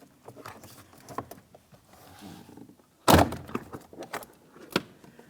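A 2002-2005 Ford Explorer interior door panel is pried and lifted off, with faint plastic creaks and rattles, then one loud sharp clip pop and thunk, followed by a lighter knock.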